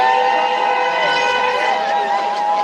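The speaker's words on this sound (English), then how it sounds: "People honking as they go by." Car horns honk as vehicles drive past a street protest over a killing by immigration agents, the loud sustained tones overlapping and blaring continuously.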